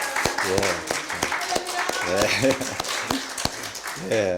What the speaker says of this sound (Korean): 우리 박수로 환영해 주시기를 바랍니다.